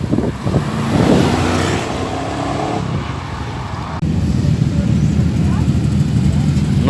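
A car engine revs hard while accelerating at a car meet, a loud close roar that swells and shifts pitch before an abrupt cut into a rough, steady rumble, with voices talking over it.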